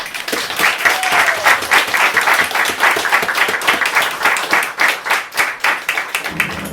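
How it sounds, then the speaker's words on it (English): An audience at a poetry open mic claps warmly and steadily, a loud crowd of hands with a slight rhythmic swell, and no talk over it. "Let's give Lauren and more importantly Kaya another round of applause."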